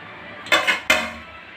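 A metal lid set down on a pot of chicken dum biryani, giving two sharp close clanks in quick succession with a brief ringing tail, and no talking.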